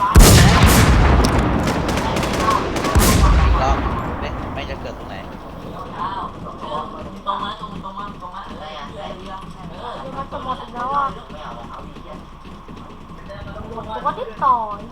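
Bursts of gunfire fill a shooting video game, with rapid shots crowding the first few seconds before fading to scattered sounds, while players talk over the action throughout.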